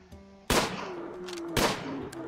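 Two loud, sharp gunshots crack about a second apart in the game Rimworld, each with a short decaying tail over a faint steady hum.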